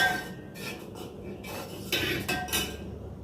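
A spoon mixes chilled milk and ragi into a ragi milkshake in a glass, giving quick bursts of clinking and scraping against the sides, close and clear with no voices.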